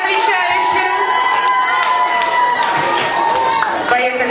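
A young children's audience at a camp pageant contest cheers and claps loudly, a busy, continuous wash of shouting and applause close by with voices overlapping.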